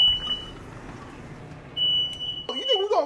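A high, steady electronic tone from a kitchen smoke alarm set off by cooking sounds continuously, then a person starts speaking loudly over it.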